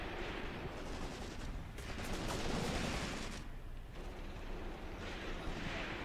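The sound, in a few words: gunfire from soldiers in a barn, Graviteam Tactics video game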